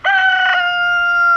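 A rooster crows once, loud and close, a long sustained call that holds steady to the end.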